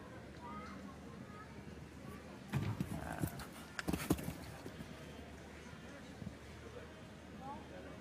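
Hooves of a horse thud and clatter in irregular bursts during a show jumping round at an eventing competition, faint and a little distant, under crowd murmur and commentary.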